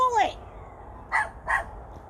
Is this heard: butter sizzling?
no